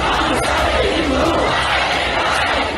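A huge crowd of thousands roars and chants continuously at a Hindu religious procession, a dense, loud, close wall of voices that never lets up.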